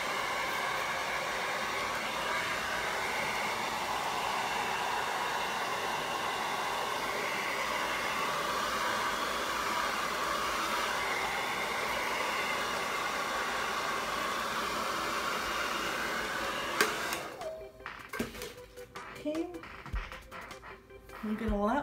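A hair dryer set to high heat and low fan blows through thick hair with a steady, close whoosh that cuts off abruptly, leaving quieter handling noises.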